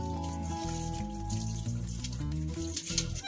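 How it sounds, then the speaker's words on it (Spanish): Warm tap water running steadily into a kitchen sink while dishes are washed, a continuous close splashing stream with light clinks and trickles, alone and fairly quiet. "yo lavo los trastes con agua tibia, agua calientita."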